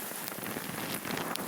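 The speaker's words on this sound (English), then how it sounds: "That is some stinging rain." Heavy, stinging rain pouring down during a windy storm in Charlottesville, Virginia, a dense steady hiss of drops hitting surfaces, close and continuous with no talk.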